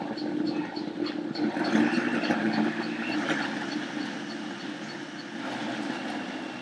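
A blender blending fruit runs steadily, a loud continuous motor whir with a churning roar that holds without a break, and no talking.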